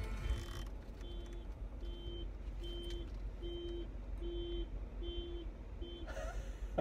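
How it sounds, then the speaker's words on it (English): A car alarm goes off in a nearby line of cars, sounding as evenly spaced, steady electronic beeps that repeat about eight times over a low background rumble. "somebody just set off the alarm in a car in the dirty line to my left"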